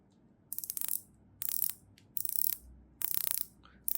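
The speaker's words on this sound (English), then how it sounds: "It clicks much better. It's a little bit more tight than Pagani design, and I really like the sound of this bezel." Rotating bezel on a SteelDive dive watch clicking in five quick bursts of tight, crisp ratcheting clicks, each lasting about half a second with short pauses between, close and distinct against a quiet background.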